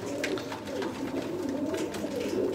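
Sialkoti pigeons, nine of them offered for sale, coo in steady overlapping rolls with occasional sharper call notes, close and continuous throughout with no talk.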